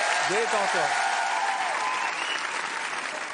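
Dense, sustained audience applause fills a French stage hypnosis comedy show, loud and steady throughout, with a brief voice or cheer rising over it near the start.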